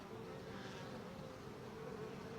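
Honey bees working buckwheat near their hives after rain, a dense, steady buzzing hum that fills the air continuously with no voices.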